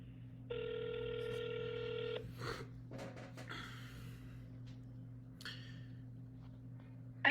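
A single electronic telephone ring tone during a round of cold calls sounds as one sustained, buzzy burst lasting under two seconds over a low steady hum, then the line falls quiet.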